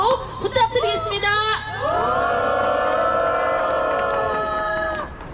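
Crowd at an outdoor labor union rally cheering and whooping for the union chairman, a burst of shouts swelling into sustained loud cheering and sung or chanted tones that hold steady before tapering off.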